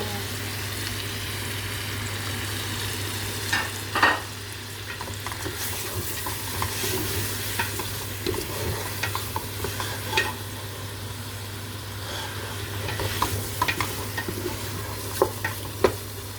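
Onions sizzle and fry in a pan for a royal three-meat couscous, with steady broadband crackle and intermittent scraping stirs, a louder clatter near four seconds and scattered sharp utensil knocks toward the end, over a constant low hum.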